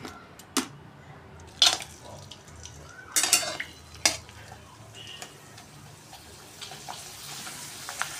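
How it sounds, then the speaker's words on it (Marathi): Sago and poha mirgund fryums are dropped into hot oil in a home kitchen. A soft, steady sizzle is broken by a few sharp clinks and scrapes of utensils, close and moderate in level, with no talk. "आता आपण थोडेसे मिरगुंड तळून बघणार आहे।"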